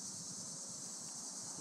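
A steady, high-pitched cicada drone buzzes continuously outdoors near a garden wasp den in August, holding an unbroken, fairly faint hiss with no pauses.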